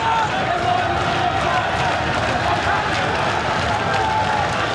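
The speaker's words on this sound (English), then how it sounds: "listen to the ferocity of that crowd now" A dense, steady roar of a large crowd at a BAMMA 6 MMA fight fills the space throughout, loud and continuous with no pauses.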